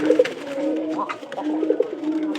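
Several pigeons coo close by in soft, throaty, repeated calls that overlap one another.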